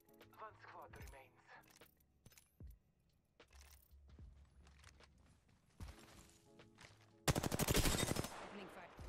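Gunfire in the shooter game Apex Legends: scattered single shots and clicks early, then a loud, rapid automatic burst near the end, with game voice lines heard between.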